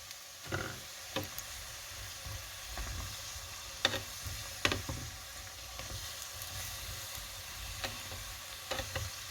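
Potato bondas deep-fry in oil with a quiet, continuous sizzle, close by, punctuated by occasional soft clicks and scrapes from a slotted spoon, without any talking.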